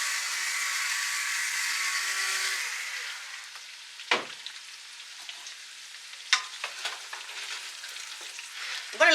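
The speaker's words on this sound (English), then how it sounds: "I'm going to let these cook until they get some color on them" Potatoes fry in a pan with a loud, steady, hissing sizzle that dies down partway through, followed by scattered spatula scrapes and clacks against the pan, close by and with no speaking.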